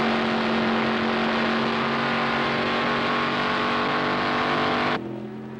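Goodrich Corvette race car at the 1973 Le Mans 24 Hours, a loud sustained engine roar at high speed with a steady pitched whine, cutting off abruptly near the end to a quieter rumble.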